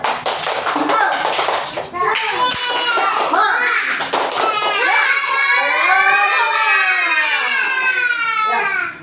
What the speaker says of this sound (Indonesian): Ayo, biar semangat, kita tepuk semangat dulu.